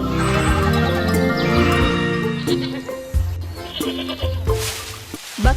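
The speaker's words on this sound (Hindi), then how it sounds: "बकरियों को हरी घास चरना अच्छा लगता है।" Goats bleat in a cartoonish game setting where they are led to graze on green grass, with several wavering cries layered over bright, busy music and chimes that stay loud throughout.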